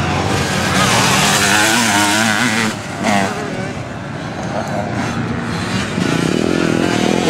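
A small KTM motorcycle races around a speedway, its engine loud and revving as it passes close by, rising and falling over several seconds.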